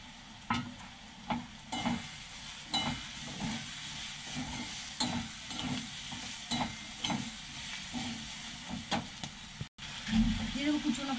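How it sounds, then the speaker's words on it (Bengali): Ginger and garlic fry in a pan with cumin and spice powders for a soybean mince dish: a continuous soft sizzle, punctuated by regular scraping stirs and occasional utensil knocks. "আদা রসুন ভালো ভাজা হয়ে গেছে। এবার দিয়ে দেবো জিরে,"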